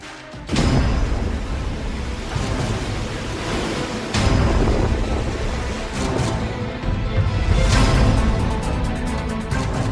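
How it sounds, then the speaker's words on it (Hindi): Heavy rain pours down during a spring storm in Bihar, India, making a dense, continuous roar that swells in gusty surges, with a few heavier bursts and no voices. "तेज बारिश, इतनी जोर बरसात मानो सावन भादों का महीना हो"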